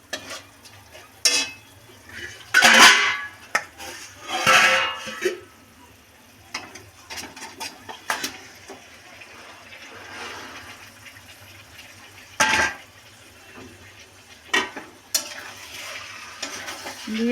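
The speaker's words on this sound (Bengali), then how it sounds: "দিয়ে চিকেনগুলো দিয়ে ভালো করে কষিয়ে নেব।" Chicken pieces cooking in fried spice masala in a pan, with intermittent scraping and stirring clatter against the pan over a low background sizzle, close and moderately loud.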